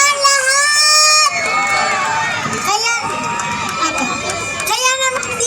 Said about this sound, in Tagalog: Wala ba masigabong palakpakan na may kasamang hiyawan dyan?